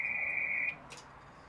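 A remote antenna tuner mounted on a pole, a Chameleon URT1, tuning to the 80 meter band gives a steady high tone for about 0.7 seconds. The tone then stops and a faint rustle follows over low background noise.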